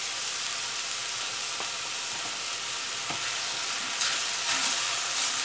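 Flour being stirred into onions sizzling in a soup pot, a steady close frying hiss with faint scraping stir strokes throughout, no talking.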